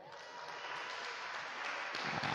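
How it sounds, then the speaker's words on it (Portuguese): A church congregation claps together in a dense, steady wash of applause that holds at moderate loudness and grows slightly fuller toward the end, with no talking. "Você pode aplaudir bem forte o Senhor."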